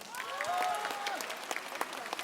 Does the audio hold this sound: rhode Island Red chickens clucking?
no